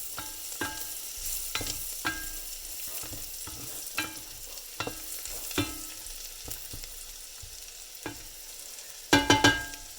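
Bacon and garlic frying in a pan, crackling with a steady low sizzle, stirred with sharp repeated scrapes and clicks through the stretch and a louder burst of clatter near the end.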